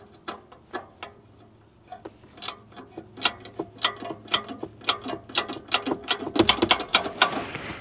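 A hand ratchet wrench works an exhaust bolt on a Lexus RC in a tight spot, giving close clicking strokes that start sparse and speed into a dense run of rapid ratcheting, with no voices.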